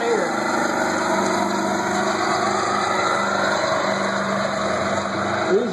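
A modified stock pulling truck strains at full throttle during a fair truck pull, a loud, steady engine roar held at high revs with crowd and announcer noise mixed in.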